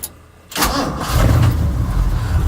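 A 1979 Ford F-250 truck with about 111,000 miles that has been sitting cranks briefly, catches quickly, and settles into a steady, rumbling idle close by, with no talking.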